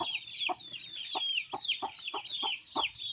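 Two-week-old Muscovy ducklings on a farm give rapid, high, repeated peeping calls close by, a busy overlapping stream of chirps with soft lower clucks in between.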